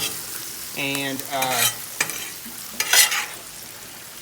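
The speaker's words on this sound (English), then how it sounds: "We can look at the mushrooms here. They're sizzling." Mushrooms sautéing on a griddle set low, a steady close sizzle broken by several scraping stirs, with one brief spoken word.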